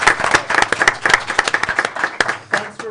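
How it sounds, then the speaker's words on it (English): Scattered hand clapping at a school board of education meeting, a small group of people giving a round of applause for an absent honoree; sharp, uneven claps crowd together across the whole stretch at moderate loudness. "let's give her a big round of applause"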